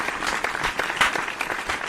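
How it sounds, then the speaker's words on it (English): Hands clap in a quick, uneven patter that sounds like a small group applauding, moderately loud and close, with no voices over it. "I clap extra hard for Joey Swoll"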